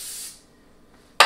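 Cooking spray from an aerosol can hisses in two short bursts onto baking pans held over a kitchen sink, the first fading after a moment and the second sharper and louder.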